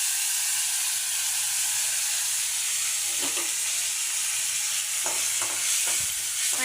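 Ginger garlic paste and curry leaves crackle in hot oil after mustard seeds have popped, giving a steady close hiss with a few sharp sputters and pops near the end.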